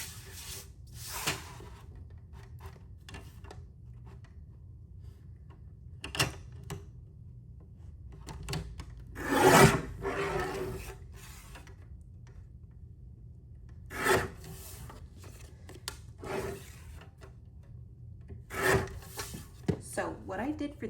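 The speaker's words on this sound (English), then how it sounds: "first thing we're going to do is just cut down the craft cardstock" Craft cardstock being cut: intermittent rasping, scraping strokes in short bursts separated by quiet gaps, close and fairly soft, with a person talking occasionally in between.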